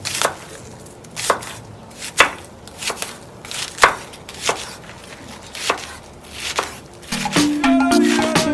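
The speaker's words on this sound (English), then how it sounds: "I'm going to start off by chopping my scallions." Irregular knife chops on a cutting board as scallions are cut, close up, with a brief tonal sound near the end.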